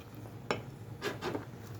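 A spoon stirring cornmeal into a cooking pot for coucou, soft scraping with a few distinct clinks and knocks against the pot, quiet and close.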